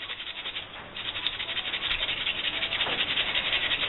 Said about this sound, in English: Scrub them really good.